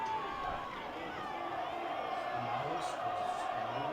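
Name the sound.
high school football crowd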